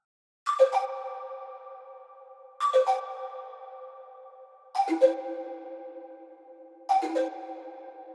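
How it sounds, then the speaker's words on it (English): Air Kalimba Auto preset on the Hive synth with its arpeggiator running: bright plucked kalimba-like notes in quick rising clusters, four phrases spaced about two seconds apart, each ringing and fading, alone and fairly soft. "It's the Air Kalimba Auto from Hive."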